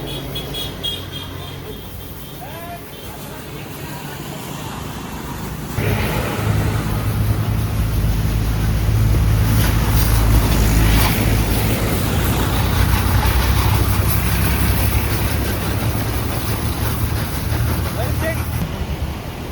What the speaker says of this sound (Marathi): गाडी वॉश करतो आपण आता, ट्रिपला जायचंय म्हणून